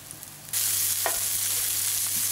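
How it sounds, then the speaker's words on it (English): Meatballs are laid into hot cooking oil in a pan and start frying, and a loud, steady sizzle bursts in after a short quiet moment and keeps going close up. "I'm going to take my meatballs and just lay them in the oil"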